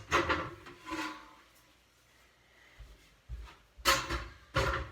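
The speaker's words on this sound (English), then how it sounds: "I'm gonna switch out my chair." Wooden scraping and knocking as a chair is swapped out and moved, with a few rubbing drags early on, a quiet stretch, then sharp clunks and bumps, close by.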